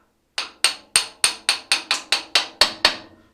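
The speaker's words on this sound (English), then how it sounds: "I've got to tap that back a smidge." Hammer tapping a proud brake rod back into place, about eleven bright metallic taps in a steady quick rhythm, close and clear with no talk.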